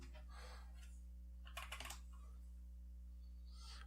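A Tezarre TK61 RGB keyboard gives a short, faint burst of clicky keystrokes in the middle, set against a steady low electrical hum and near-silence on either side.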